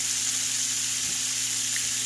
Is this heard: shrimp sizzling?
yes